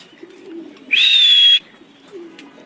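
A racing pigeon gives a single clear, loud call lasting under a second, with faint soft cooing murmurs before and after it in a quiet setting.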